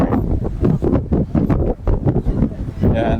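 Cold wind gusting across the grounds of Nagoya Castle on a snowy day, buffeting the microphone as a loud, rumbling roar that pulses irregularly, with a voice audible near the end.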